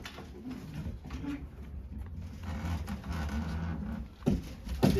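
Racing pigeons in a breeder loft cooing softly at close range, low murmuring coos layered with rustling and light scratching, no talking.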